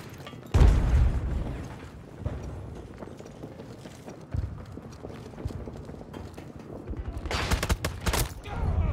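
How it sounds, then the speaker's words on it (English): In a Battlefield match, a heavy thump of a grenade blast lands near the start, followed by scattered gunfire and impacts, ending in a denser volley of rapid shots. "Grenade out!"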